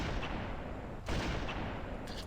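A sniper rifle fires in the Halo video game: one sharp, loud shot cracks out over a dense, noisy game background, followed by a fainter echoing tail. No one talks.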